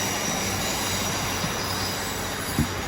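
A Class 150 diesel unit, 150103, rolls through Wigan North Western station with a constant close rumble and faint squealing wheels on the rails, and no talk over it.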